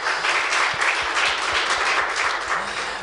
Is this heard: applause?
yes